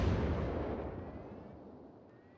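Battleship guns firing high explosive shells in World of Warships: a single deep, booming blast that rolls off in a long fading rumble.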